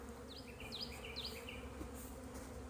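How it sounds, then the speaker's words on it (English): Honeybees buzzing around an opened nuc hive during an inspection, a quiet steady hum with a few bees darting past close by. "Look at all those bees."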